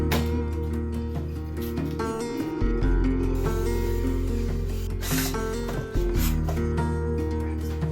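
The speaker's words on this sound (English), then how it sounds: "The plasterer has asked me to scrape all the high points off the artex." Scraping the high points off an artex ceiling, a rough rasping scrape repeated in short strokes, close and fairly loud, with background music underneath.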